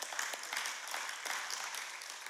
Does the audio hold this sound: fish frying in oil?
no